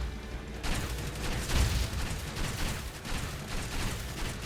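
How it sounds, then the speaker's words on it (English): Rapid stacked explosions from an action roguelite video game, a dense rumbling barrage of booms and blasts with no pause, loud throughout. "all these explosions side by side are stacking on each other, and it's getting crazy"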